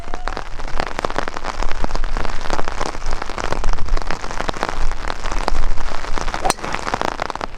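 Steady rain falling on a golf course, a dense, loud patter of raindrops on surfaces with no talking.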